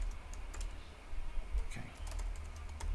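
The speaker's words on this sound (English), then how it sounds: "I type too fast" Fast typing on a computer keyboard, with quick bursts of light key clicks over a quiet room background, soft and fairly close.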